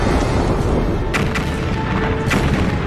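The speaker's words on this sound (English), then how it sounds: "Just a few million years after the first stars formed, some of them exploded." A supernova explosion sound effect: heavy rumbling booms over a dense roaring background, with two or three sharper blasts cracking through, loud and continuous.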